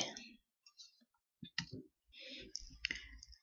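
Computer mouse clicks while creating a VB.NET project: a few faint, short clicks separated by quiet gaps, with soft background noise.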